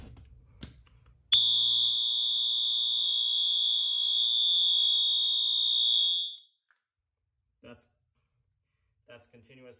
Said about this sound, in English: so I got the alarm hooked up, and it's gonna be on continuous horn